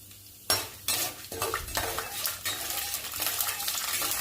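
Mustard seeds with chana dal and urad dal hit hot oil and burst into a crackling sizzle, with metal spoon scrapes and clinks against the pan as they are stirred.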